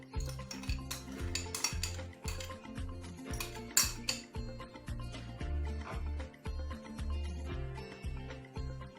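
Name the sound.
spoon stirring liquid oil into bun dough in a bowl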